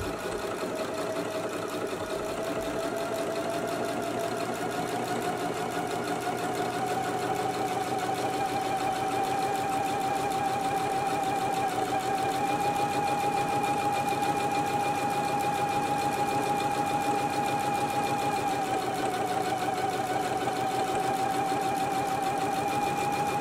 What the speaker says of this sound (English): let's go ahead and edge stitch our ties now